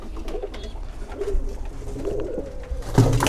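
A pigeon coos in low, soft bursts while being handled up close, with some rustling and handling noise. A louder coo comes near the end.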